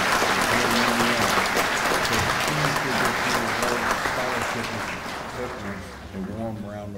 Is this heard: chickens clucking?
no